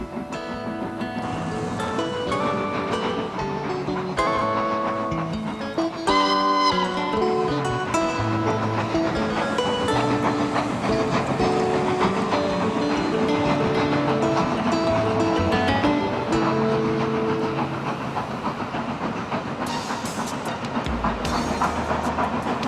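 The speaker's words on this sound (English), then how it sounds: "Passing trains heading for the North Wales coast add to the atmosphere of this majestic town." A train rumbles past in Conwy, North Wales, with steady clatter and tonal, whistle-like hums over a dense, continuous roar that stays loud throughout.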